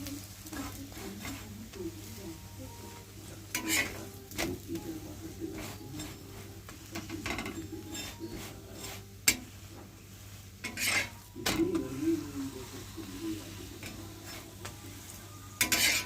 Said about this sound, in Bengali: তেল দিয়ে আমি পরোটাটা আস্তে আস্তে ভেজে নিচ্ছি।